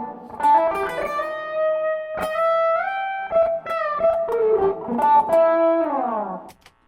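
Distorted electric guitar through a Zoom G5n on a patch, playing a short melodic phrase of sustained, bending notes with a gritty, saturated tone, close and alone.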